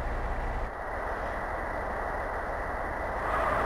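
A tram in the video game GTA San Andreas rolls along with a steady, continuous rail rumble and hiss that stays moderately loud and even, briefly dipping before swelling slightly at the end.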